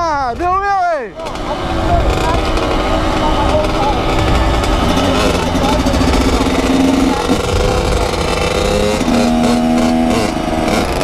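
Two Kawasaki KX100 dirt bikes on a street, one engine revving hard and sustained as a rider pops a wheelie, with rising pitch sweeps, close and loud, while people shout and talk over it.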